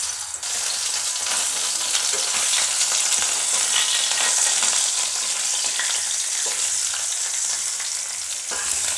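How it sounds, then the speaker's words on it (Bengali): Fish frying in hot mustard oil in a wok, a loud dense sizzle and crackle that holds steady throughout, close up with occasional stirring and no voices. "তেলটা গরম হয়ে গেছে, আর আমি মাছটা ভেজে নিই।"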